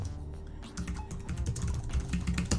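Code being typed on a computer keyboard, with a quick, uneven run of close, crisp key clicks and taps that continue without a pause.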